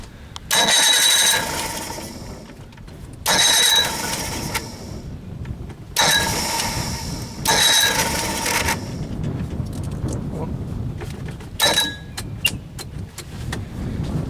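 An engine with an electric choke, run at a cabin, is revved in several loud surges that rise and fall back to a rough idle between bursts, close to the listener.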